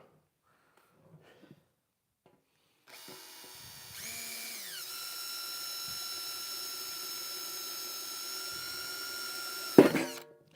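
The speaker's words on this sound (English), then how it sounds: "now I'll drill out those 4 holes" A power drill bores holes through a shop trash can lid, starting with a rising whine and then holding one steady, high drone for several seconds before stopping with a brief clunk, fairly faint and alone.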